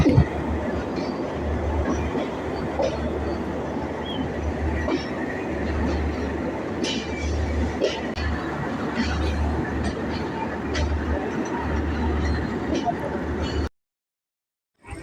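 The Rupsha Express pulls into Khulna railway station with a steady, loud rumble of rolling carriages, some scattered clanks and rattles on top, before the clip cuts to silence near the end.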